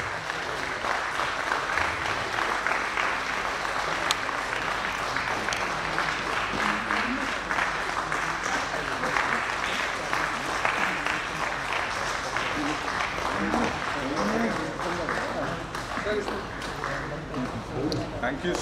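An audience claps steadily and densely throughout an inauguration session of a holistic therapies conference, with voices mixed in under the applause.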